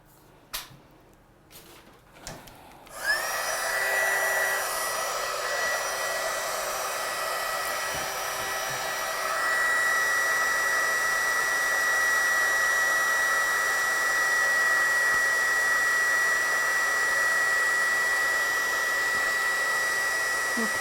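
A heat gun starts with a click and settles into a loud, steady blowing whir as it heat-sets powder, running unbroken and close after a few seconds of handling noises.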